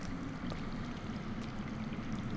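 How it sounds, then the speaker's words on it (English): Underground water rushes and trickles steadily in a video game scene, a soft continuous flowing wash heard alone at low level. "That's water. I hear water. From underground."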